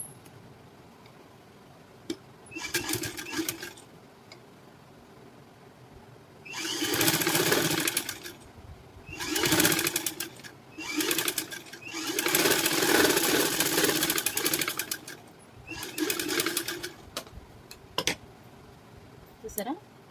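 A sewing machine stitches a high neck blouse in several bursts of rapid whirring, close and fairly loud, separated by quiet gaps with small clicks and handling noises.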